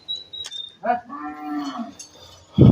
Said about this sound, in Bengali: শুরুতে যেটা দেখানো হচ্ছে এটা মূলত একটা শাহিয়াল গরু একদম শাহিয়াল ব্র্যান্ডের গরু